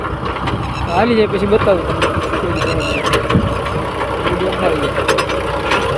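A farm tractor fitted with a rotavator idles with a steady low rumble, its engine running continuously beneath someone talking close to the recorder.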